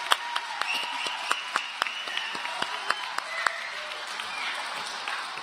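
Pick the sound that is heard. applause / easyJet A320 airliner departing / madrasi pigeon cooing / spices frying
applause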